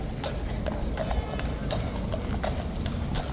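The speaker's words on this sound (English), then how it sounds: "I don't think I've recalled seeing this many police horses in such a short space of time." Police horses' hooves clip-clopping on pavement, a brisk steady run of many hoof strikes close by amid street background noise, with no talking over them.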